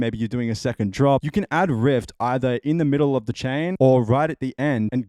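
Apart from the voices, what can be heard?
No distinct noise like a dog, phone or traffic.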